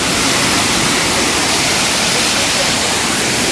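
Gadchandi double waterfall in Keonjhar roars as a dense, continuous broadband rush of falling water, loud and close with no break, while a voice is faintly present under the torrent.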